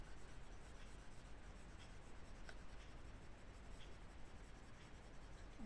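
A board eraser rubs steadily across a writing board during a maths lesson, making a continuous soft scratchy friction that stays even and fairly quiet throughout, with no talking.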